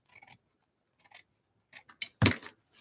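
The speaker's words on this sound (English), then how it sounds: "So now I want to cut. I think I'll cut it right like this." Scissors snip through material for a Valentine art project, cutting two pieces at once in short strips: a few quiet, scattered snips, then a louder, fuller cut near the end, close by with no talking.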